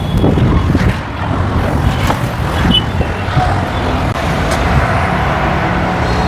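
A used Honda Civic's engine runs nearby with a loud, steady hum, with a faint whoosh of wind or passing traffic in the background.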